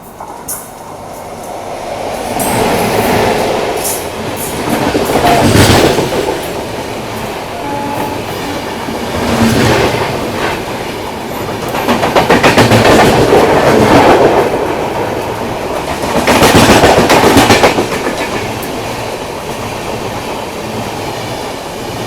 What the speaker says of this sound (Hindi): बगल से आने वाली है त्रिवेंद्रम LTT मुंबई नेत्रावती एक्सप्रेस